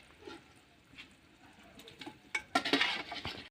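Mutton sautéed in a pot on an outdoor stove, faint soft patter and sizzle with scattered scraping and clinking of a spoon stirring, growing busier and louder toward the end, no talk.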